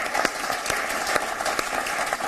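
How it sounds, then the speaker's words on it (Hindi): Loud, dense audience applause at a Hindi poetry gathering fills the whole stretch, a steady wash of many hands clapping with no pauses and no talk. "एक बार मैं चाहता हूं जोरदार तालियों से उनका अभिनंदन करें।"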